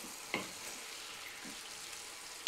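Veal sizzles steadily as it fries in a pan, with a few soft scrapes of a utensil against the pan bottom.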